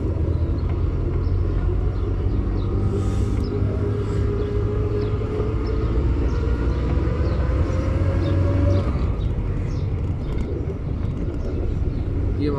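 Manual car pulling away from rest after the clutch is released during a driving lesson, a steady low engine rumble and road noise throughout, loud and close from inside the cabin.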